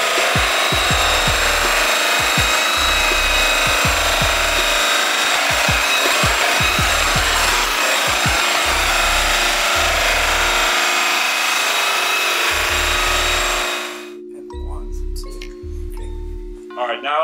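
A flannel buffing wheel spinning at around 1,600 to 1,800 RPM polishes aluminum with Blue Moon compound, giving a loud, steady whirring hiss with rhythmic thumps underneath that cuts out near the end, while someone talks over it.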